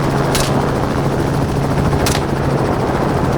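Helicopter flying low during a hog hunt from the air, a loud, steady rotor chop and turbine roar that fills the whole moment, with a couple of short, sharp bursts cutting through.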